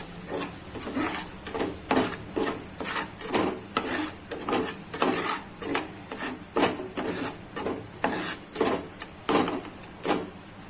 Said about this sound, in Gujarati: આ રીતના બધું મિક્સ કરી દેશું પેલા.